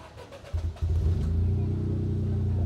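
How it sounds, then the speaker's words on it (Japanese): Toyota GR86 40th anniversary car or Subaru BRZ STI Sport engine cranking and catching, then settling into a steady low idle rumble close by, at an outdoor car event. "ちょっとエンジンかけます。 エンジンかけるよ。"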